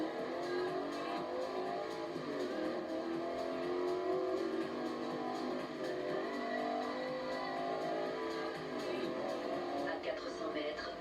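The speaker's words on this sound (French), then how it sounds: "On a atteint les 240 km/h avec cette Shelby, donc l'ancêtre de la Mustang." A Shelby, forerunner of the Mustang, accelerating hard at around 240 km/h on an airfield runway, its engine a steady loud roar throughout, with voices talking over the drone.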